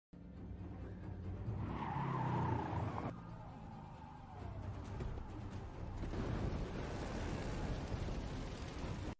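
A car speeds away with skidding, squealing tires, a loud sustained roar that swells, eases and swells again in a steady rush of engine and tire noise.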